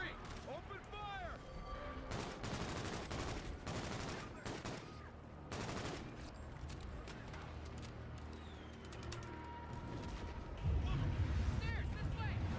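Sustained bursts of gunfire from a shooter video game fill the stretch, dense and loud with rapid volleys, mixed with game voices, music and effects throughout.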